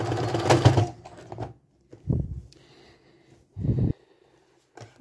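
A sewing machine backstitches knit children's shorts in three short separate bursts, with a close, quiet buzzing stitch and pauses between them.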